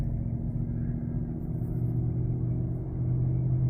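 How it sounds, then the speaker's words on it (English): A Toyota Land Cruiser shifting into third gear while driving, heard from inside as a steady low engine and road rumble with only a slight change in tone, no talk. "Smooth shift into third gear."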